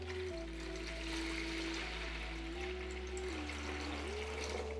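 Water being poured into the reservoir of a self-watering planter, a steady continuous splashing flow lasting throughout, close and fairly loud, with a low mechanical hum underneath.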